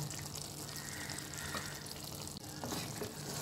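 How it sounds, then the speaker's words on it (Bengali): Chicken topped with cheese sizzles steadily in a frying pan while being stirred, a soft continuous crackle with faint scraping, close and fairly quiet with no talking. "এটাকে আমি নেড়ে নামিয়ে নেব।"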